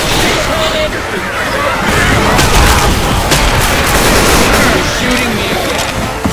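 Video-game gunfire in Payday 2 rattles as dense, overlapping bursts and booms throughout, loud and constant, mixed with scattered background chatter.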